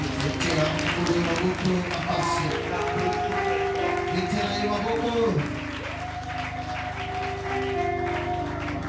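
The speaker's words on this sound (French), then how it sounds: "Applaudissons très fort" Church congregation at a worship gathering applauds loudly and steadily, a dense wash of clapping with sustained voices and music tones running underneath throughout.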